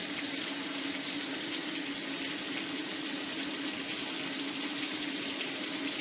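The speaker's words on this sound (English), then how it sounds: "you put in 2/3 cups of water" Water poured steadily into an old cooking pan with taco seasoning, a continuous close rushing splash with no break and no talk.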